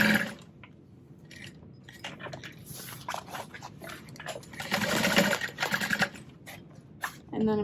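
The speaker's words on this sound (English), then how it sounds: "So I'm sewing through 4 pieces of fabric here." Sewing machine stitching through four stacked layers of fabric for a parachute knapsack, its motor whirring in uneven bursts close up, swelling louder toward the end with small handling clicks between runs.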